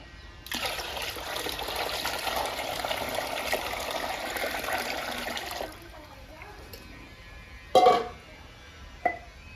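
Rinse water from washing urad dal and idli semolina pours steadily into a bucket for several seconds, a continuous splashing gush that stops, followed by a couple of faint knocks.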